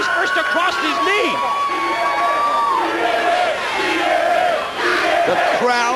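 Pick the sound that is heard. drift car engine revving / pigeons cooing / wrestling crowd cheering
wrestling crowd cheering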